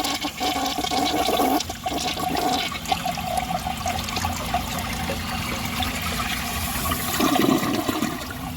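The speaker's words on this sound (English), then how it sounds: "I'm gonna set it back up and do another flush." A toilet flushes during plumbing restoration testing: a loud, continuous rush and swirl of water that runs for several seconds, with a brief dip and a surge near the end and no talking.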